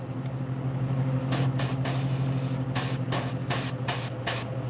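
An airbrush or spray gun lays a black base coat onto a largemouth bass fishing lure, giving several short bursts of hissing spray over a steady compressor hum, close and fairly loud.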